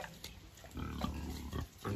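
A pig, a sow near giving birth, grunts and snuffles close by in a few low, rough bursts, fairly quiet against a steady background hiss.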